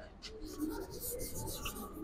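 Writing on a surface during an organic chemistry lesson on amines: soft, continuous scratching strokes, close and fairly quiet, lasting about two seconds with no talk.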